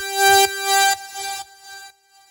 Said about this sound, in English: It's a pretty simple sound. It's just a saw wave and a square wave.